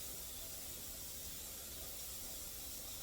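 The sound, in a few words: pressure canner venting steam while canning sweet corn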